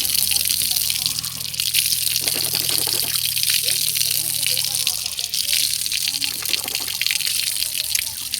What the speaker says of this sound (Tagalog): Ito, napakalakas ng tubig dito.